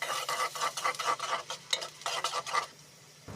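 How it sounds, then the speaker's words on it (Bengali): Sliced onions dropped into hot oil in a karahi for chicken leg kosha, sizzling with rapid rhythmic stirring scrapes, close and steady, fading to quiet near the end. "তেলটা গরম হয়ে আসলে দিয়ে দেবো পেঁয়াজ"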